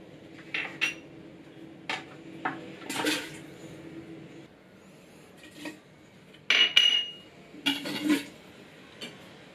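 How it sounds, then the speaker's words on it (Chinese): Soup ingredients, chopped pork bones and dried oysters, being dropped into a cooking pot: a series of scattered clanks and knocks of pieces against the pot, close and moderately loud, with quiet gaps between them. "把材料呢就放入煲内"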